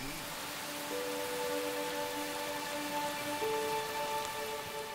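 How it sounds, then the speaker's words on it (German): Heavy rain falls on a lake in a Thai national park as a soft, steady hiss of drops, with faint tonal sounds threading through the background. "Auf dem See im Nationalpark regnet es schon seit Stunden."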